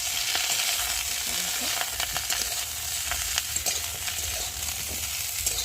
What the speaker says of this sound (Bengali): কপিগুলো আগে ভালো করে ভেজে নিয়ে তারপর আলুগুলো ভেজে নেব।